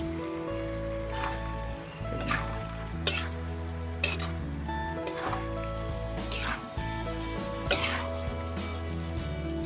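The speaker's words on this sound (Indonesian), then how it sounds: "Ini kita aduk, terus kita aduk-aduk terus ya sampai agak kering" Snail krengsengan being stirred in a frying pan as it cooks down, with steady sizzling under repeated scraping strokes of the spoon against the pan, close and fairly loud.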